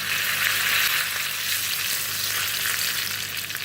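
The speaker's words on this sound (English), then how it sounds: "And I've got 2 cloves of garlic, cut up quite fine. Just going to give that a good stir." Two cloves of finely chopped garlic fry in a pan with a steady, loud, close sizzle, stirred for a South Indian tamarind chana dal, with no talking.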